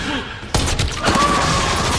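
Gunfire rings out as a man shoots a monster in an action scene. One sharp, loud blast is followed by a second burst, then a rumbling, chaotic tail under faint background noise.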